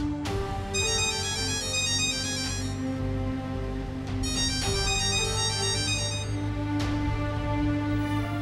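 Melodic electronic telephone ringtone of an incoming call, playing two repeated tuneful phrases with a brief pause between them, loud and close, no talking.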